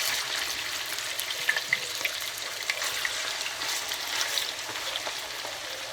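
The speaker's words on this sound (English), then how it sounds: "The oil is hot now, so I will put the chicken." Marinated chicken pieces fry in hot oil in a pan for a chicken curry with pineapple, making a continuous, even sizzle with occasional small pops and crackles, close and moderately loud, with no talking.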